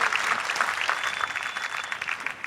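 A crowd applauds and cheers at the Ford Mustang global debut at the North American International Auto Show in downtown Detroit, a dense, steady patter of clapping for a couple of seconds.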